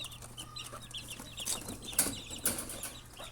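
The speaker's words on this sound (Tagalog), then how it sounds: "Ayan po sila mga kamanok." Gamefowl chickens cluck softly and repeatedly at close range, with scattered rustling and a brief flutter of wings, and nobody speaks.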